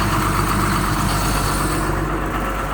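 A JCB 526-56 telehandler sits parked with its diesel engine idling, a close, steady low throb with a broad mechanical hum above it, unbroken and even for the whole stretch.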